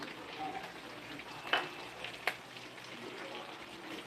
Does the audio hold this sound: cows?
no